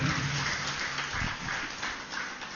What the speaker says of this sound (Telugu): వారికి కూడా ఒకసారి గట్టిగా చప్పట్లు కొడదాం